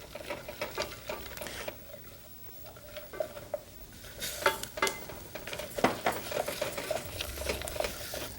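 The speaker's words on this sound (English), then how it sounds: "toss in your slivered almonds. Now let's stir these up until the almonds become a little golden brown" Slivered almonds sautéing in a pan while being stirred: soft, steady sizzling with scattered scraping and clicking of the spoon, quiet and close, swelling briefly as they are tossed.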